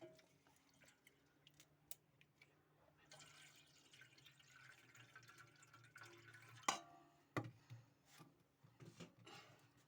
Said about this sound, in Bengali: ভালো করে জল দিয়ে ধুয়ে নিচ্ছি